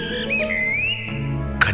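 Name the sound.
wagtail bird calling, sound effect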